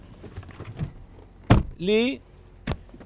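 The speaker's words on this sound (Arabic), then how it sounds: "بس تضغط الزر هذا ينزلق الباب للأمام" Seat in a Jeep Grand Wagoneer sliding forward at the press of a button beside the headrest, heard as a sharp thunk followed by a brief whirring motor glide and another knock, with someone speaking quietly around it.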